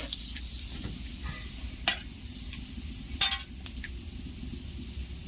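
Whole spices (cinnamon, cardamom and cloves) sizzle quietly in oil in a frying pan, with a few sharp clinks of a utensil scraping and tapping the pan as they are stirred.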